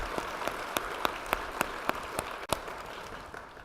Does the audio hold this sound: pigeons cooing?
no